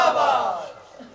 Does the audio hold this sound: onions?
no